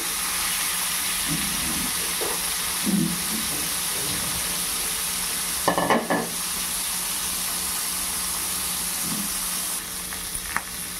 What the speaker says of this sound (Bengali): এবার মাছগুলোকে হালকা করে একটু ফ্রাই করে নেব